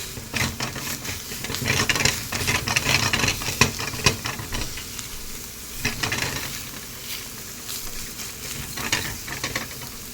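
Egg fried rice sizzles in a hot pan while a utensil scrapes and stirs in repeated strokes, close and steady, with no talking.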